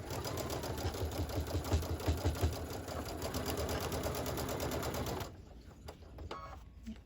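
Sewing machine stitching long quilt seams with many points, a close, rapid, steady whir that runs continuously for about five seconds before stopping abruptly into quieter handling noise.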